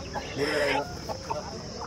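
A country chicken rooster at a village poultry market gives a short clucking call over background murmur and ambient noise, with a few fainter clucks after.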